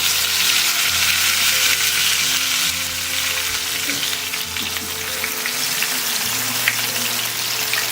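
Besan-coated fish fries in hot oil over a low flame, giving a loud, close, steady sizzle that crackles continuously without pause.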